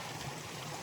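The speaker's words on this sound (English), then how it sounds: "This is a runoff for the pond that's over here. I think this is called Deer and Moose Creek." Creek runoff from a pond on an Appalachian Trail hike, a close, steady rush of flowing water with no voices over its brief span.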